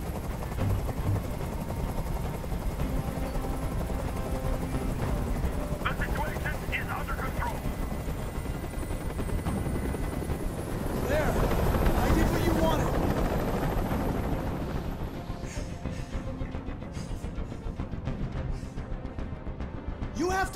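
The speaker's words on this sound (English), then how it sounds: "Tell that helicopter to get out of here." A helicopter hovers close overhead during a tense hostage standoff, its rotor wash a loud, steady broadband roar that swells around the middle and then eases slightly.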